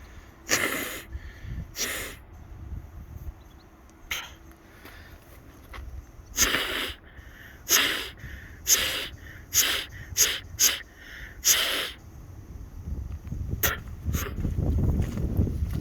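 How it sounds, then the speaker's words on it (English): Someone repeatedly blows and snorts through the nose without a tissue, using a finger, in sharp, forceful bursts, about a dozen close-up blasts with breathy pauses between them. "Just to blow my nose."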